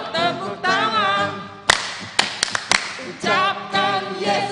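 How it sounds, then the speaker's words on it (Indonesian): A few sharp hand claps, some in quick pairs, ring out between stretches of group singing at an online Sunday school session for children. "Ayo tepuk tangan"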